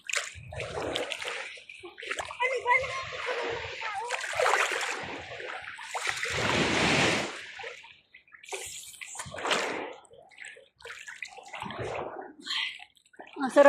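A child splashes in shallow sea water at a beach, making repeated bursts of slapping and sloshing with short pauses between them. Voices talk nearby at times.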